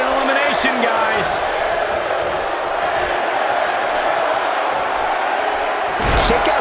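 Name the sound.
wrestling arena crowd counting along, WWE 2K18 video game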